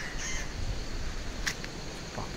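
A crow caws outdoors on a windy road trip near Siliguri and Sikkim, a few harsh calls rising over constant wind noise, fairly close and moderately loud.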